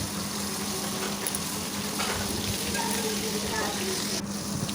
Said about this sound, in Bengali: মাছটাকে আগে ভেজে নিলাম